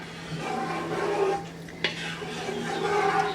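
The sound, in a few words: stirring curdling milk with a spoon for mozzarella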